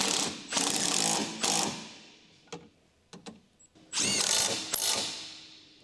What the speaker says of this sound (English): use a large 14mm short socket with a power impact wrench to tighten the retaining nut of the rear stabilizer link